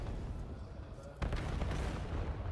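A grenade explodes in Call of Duty Black Ops 7 at an esports grand final, one sudden sharp blast about halfway through followed by a rumbling tail and scattered gunfire, beneath a low bed of commentary and crowd noise.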